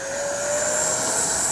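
A Freewing Red Hawk T1 70mm electric ducted-fan RC jet, British air force show livery, takes off without flaps, its steady high whine and rushing roar rising gradually in loudness, close and continuous.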